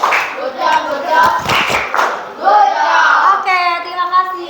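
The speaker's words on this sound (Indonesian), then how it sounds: "Kita beri apresiasi dulu dengan menepuk good job" A classroom of children gives a rhythmic 'good job' clap, a burst of quick, close hand claps mixed with chanting voices, before a teacher speaks briefly.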